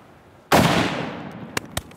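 A single loud rifle shot fired at a bear on a British Columbia hunt cracks close by and rings out in a long decaying echo, followed by two short sharp clicks.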